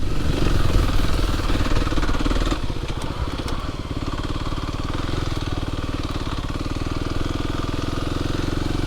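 A 2024 Kawasaki KLX 300 dirt bike being ridden on a trail, its engine droning loud and close without a break, with a brief dip in the roar partway through before it steadies again.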